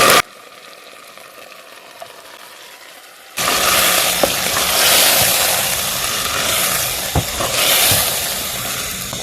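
Wild vegetables drop into a pan of golden brown onions. A faint low hiss suddenly jumps to a loud, steady sizzle, with a few small clicks of utensils.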